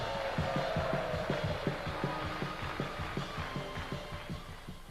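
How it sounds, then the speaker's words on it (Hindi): Studio audience applause on the Tariq Aziz Show after gifts are announced: rhythmic clapping in unison with a crowd murmur, sustained and fairly loud throughout. "भरपूर तालियां"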